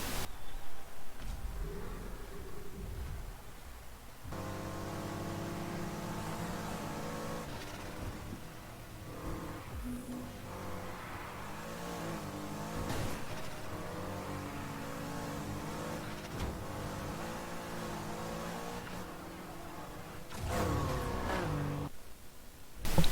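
An upgraded Volkswagen car in the racing video game Need for Speed Heat revs hard and accelerates through repeated gear shifts, its engine note rising and falling continuously with a brief tire squeal near the end.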